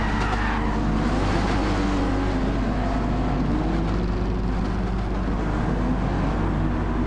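In a rain-soaked Gran Turismo race, several race cars roar together in a constant, dense engine wash that continues steadily throughout.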